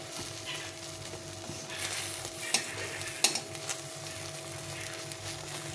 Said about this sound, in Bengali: এই তেলের মধ্যে ডিমটা ভেজে নেব